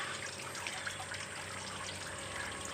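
Water trickles softly into a silkworm-culture tub, a quiet continuous flow with faint splashing and no voices.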